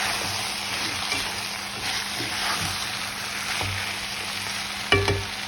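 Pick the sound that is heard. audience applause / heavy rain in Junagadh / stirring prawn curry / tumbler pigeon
stirring prawn curry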